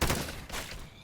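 Several close, loud gunshot bursts from guns fired at zombies in the Minecraft video game, two clusters of sharp reports within about a second.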